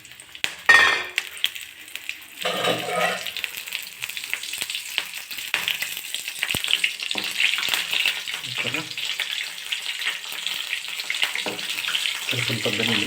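Chopped green chillies dropped into hot oil with cumin and mustard seeds, a steady close sizzle and crackle that swells after a brief clatter and continues with faint stirring noises.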